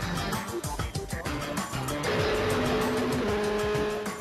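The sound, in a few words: Formula 3 race car driving a lap at Monza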